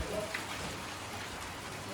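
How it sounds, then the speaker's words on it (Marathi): Heavy rain pours steadily at an outdoor campsite near Indapur, a dense, continuous hiss filling the whole clip without letup. "जोरदार पाऊस चालू झाला आहे बघा किती."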